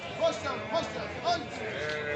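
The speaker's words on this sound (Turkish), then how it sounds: "Bunlar 9 tane balalı koyundu" Sheep bleating at a livestock market, three or four short wavering calls rising over a constant crowd murmur, moderately close.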